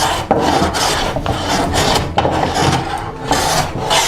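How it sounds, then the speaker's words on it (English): Hand plane shaving a thick wooden drawer front for a curved blockfront lowboy, a series of rhythmic rasping strokes, each ending in a brief pause, loud and close with no voices. "after a bit of hand planing here"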